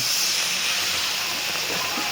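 A steady, close sizzling hiss of maida-batter pineapple jalebi deep frying in hot oil, continuous throughout without talk.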